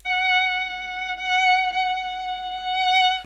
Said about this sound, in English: the last sound I added is a violin for the melody